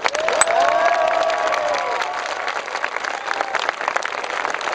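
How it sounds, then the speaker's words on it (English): An outdoor crowd at a candle-lit vigil in Trafalgar Square claps and cheers steadily, with a few whistles early on, the applause sustained throughout. "Let's all applaud ourselves."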